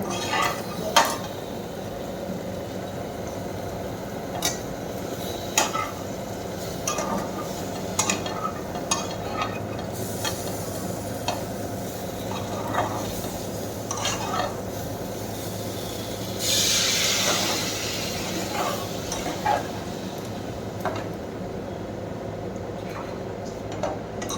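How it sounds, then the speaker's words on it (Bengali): Bitter gourd and potato shukto is stirred and fried in a pan, with repeated scraping clinks of a spoon against metal and a soft sizzle underneath, fairly quiet and close with no talk. "এবার একটু জল দিয়ে কষিয়ে তারপর জল ঢেলে দেবো"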